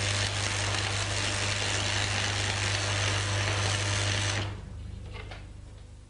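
A stick welding arc burning from an electrode on steel plate at too-high current gives a dense, loud, spattery crackle over a steady buzzing hum, then cuts to a fainter hiss with a few sputters.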